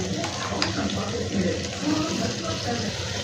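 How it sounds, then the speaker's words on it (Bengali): Water is poured into a pot of chicken kala bhuna, making a steady splashing, running-water sound close by for a few seconds, with a faint voice underneath. "এখন আমি পানিটা অ্যাড করলাম।"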